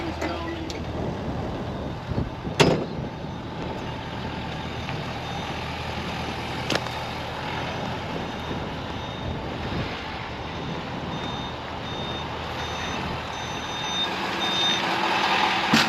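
A truck backs up in a work area where a Deere 50G excavator and Engcon tiltrotator tools are being unloaded, its reversing beeper pulsing steadily over a low engine rumble, with a few sharp knocks.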